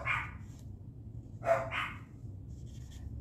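Dogs bark indoors, a single sharp bark followed a moment later by a quick pair of barks, moderately close over a low background hum.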